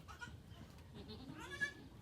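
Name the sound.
newborn goat kids bleating on a farm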